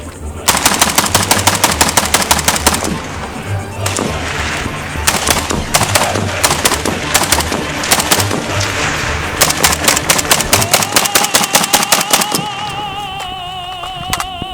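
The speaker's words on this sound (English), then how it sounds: "I didn't shoot, but that's alright, I'm going to shoot now." An AK rifle fires in long, loud, rapid bursts at close range, with fast regular shots pounding for most of the stretch before stopping near the end.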